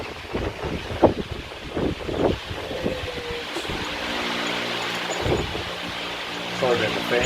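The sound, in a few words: electric fan running in a hot garage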